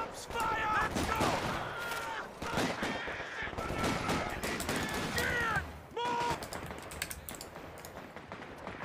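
Small arms gunfire from the Company of Heroes 2 video game: a rapid crackle of shots in bursts over several seconds, heard under voice chat and game announcer speech.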